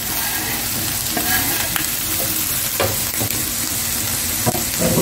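Minced meat fries in a pan with onion tipped in on top, giving a steady, close sizzle with scattered clinks and scrapes of stirring throughout.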